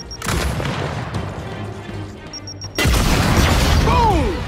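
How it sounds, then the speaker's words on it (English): A grenade goes off in the video game Gears of War 5, a loud broadband blast breaking in after a tense low rumble, followed by a sustained noisy roar of debris and game effects. "keep your head down and blind toss a grenade"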